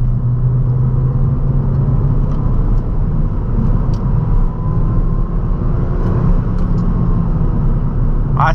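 A Ford Fiesta with 182 hp accelerates on the road, heard from inside as a loud continuous engine and road rumble that holds steady throughout.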